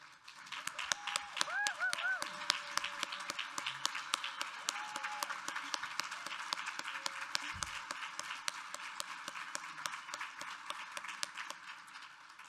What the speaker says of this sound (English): I would love if you all would stand up and we could give them a round of applause